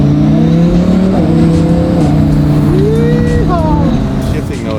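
A rebuilt twin-turbo Lamborghini driving, loud close engine drone rising through the gears with several shift breaks and a whining turbo rise, heard from inside with voices talking over it.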